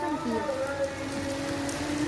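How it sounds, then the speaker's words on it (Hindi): Heavy rain pours steadily in Sialkot, Pakistan, a constant dense hiss throughout, with a voice over it. "ये देखें जी, ये देखें बारिश तेज़ हो गई है"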